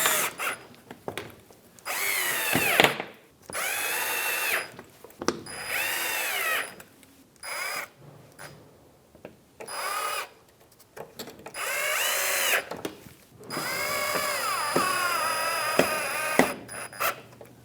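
A cordless power drill drives Phillips screws into the corner splash shield of a 2007–2015 Mazda CX-9 in repeated whirring bursts with rising pitch, close by, separated by short pauses and clicks.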